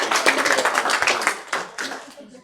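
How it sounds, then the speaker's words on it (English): A small meetup audience at a tech talk claps for the speaker, a short scattered round of individual hand claps that thins out within seconds, with a faint voice near the end. "Warm round of applause for Alex."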